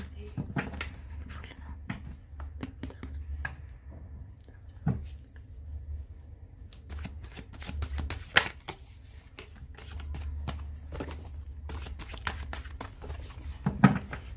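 Tarot cards are handled and shuffled by hand, with bursts of crisp flicking and tapping that come and go, close by over a low background hum, with no speech.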